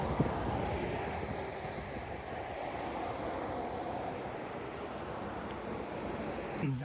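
A mountain stream flows beside the Going-to-the-Sun Road in Glacier National Park, Montana, heard as a steady, moderately faint broadband rush of water that continues without a break, mixed with some wind.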